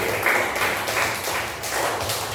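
Loud, continuous clapping for a student group in an Indonesian school class, filling the short stretch evenly.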